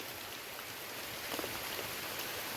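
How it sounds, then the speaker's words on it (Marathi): Heavy monsoon rain pours down beside a tidal creek, a dense, steady hiss of drops on surfaces that fills the scene evenly, with no voices and only slight swells in loudness. "कसलो पाऊस लागता तो बघा"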